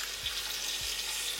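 Ginger garlic paste and green chilies frying in hot ghee for a mutton masala curry, giving a steady soft sizzle with faint low stirring taps, no voices.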